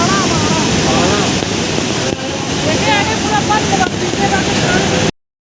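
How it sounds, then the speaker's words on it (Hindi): The fast-flowing Saraswati river near Badrinath rushes loudly in a dense, unbroken roar of churning water, heard close and alone for about five seconds before cutting off abruptly. "इतने तेज़ बहाव में सरस्वती नदी यहाँ से बह रही थी ना, इतनी तेज़ स्पीड में, इतना तेज़ साउंड आ रहा था"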